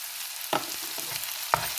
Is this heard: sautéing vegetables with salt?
yes